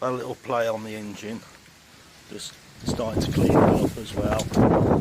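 Wind buffeting a microphone outdoors during a Honda XL125S motorcycle restoration, loud gusty rumbling in bursts alongside someone talking.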